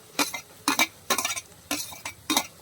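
Onion, ginger and garlic being sautéed in a pan for a Kerala clam curry, heard as five evenly spaced bursts of scraping, clinking stirring against the pan with a faint sizzle between strokes, close and with no voices.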